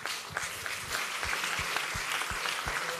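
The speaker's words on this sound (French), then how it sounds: "on peut les applaudir" Audience applause for startup battle contestants at a live pitch competition quarterfinal, a steady wash of clapping with a few sharper individual claps standing out, moderately loud and free of talk.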